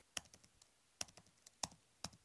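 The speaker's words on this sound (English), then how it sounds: "Now for the keyboard." Computer keyboard keys tapped close up and cleanly in a quiet room, recorded as a sound effect: four sharp, evenly spaced key strikes, each trailed by a few softer clicks.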